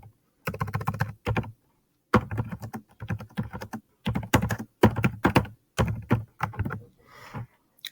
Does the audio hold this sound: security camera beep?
no